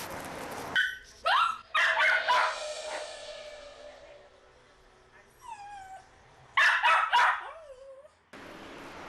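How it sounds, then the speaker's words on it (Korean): Left alone indoors after its owner leaves, a dog barks and yips in bursts toward the door, then lets out high, drawn-out whines before another loud run of barks, close and clear with no talking. "어머니가 떠나자 문 쪽을 바라보며 짖기 시작하는 녀석."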